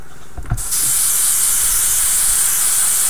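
A steady, loud airbrush hiss starts after a brief clatter and continues unbroken, a close spray of air and leftover paint being emptied from the airbrush.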